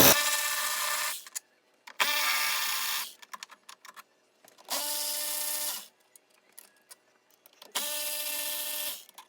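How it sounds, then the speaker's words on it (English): A Milwaukee power tool runs in four separate bursts of about a second each, spinning 12mm bolts off the intercooler of a 1988-89 supercharged Toyota MR2, with short pauses and faint clicks between the runs. "Got my trusty Milwaukee here. Let's take these 12mm bolts off."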